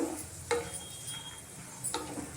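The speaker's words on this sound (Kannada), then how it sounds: "ಇದು ಚೆನ್ನಾಗಿ ಸ್ವಲ್ಪ ಫ್ರೈ ಆಗಲಿ ನೋಡಿ ಈ ರೀತಿ ದ್ರಾಕ್ಷಿ ಎಲ್ಲ ದಪ್ಪ ಆಗಬೇಕು" Raisins frying in a pan give off a soft, steady sizzle, punctuated by two sharp clicks of stirring against the pan.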